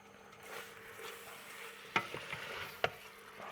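Lamb pieces are stirred with seasoning and curry in hot oil, giving a low sizzle broken by two sharp utensil clacks against the pan.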